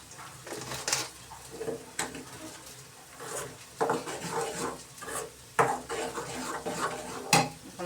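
A spoon scrapes and knocks against a pan as tomato chutney is stirred, with irregular clinks and scrapes, some louder sharp taps, close by and with almost no talking.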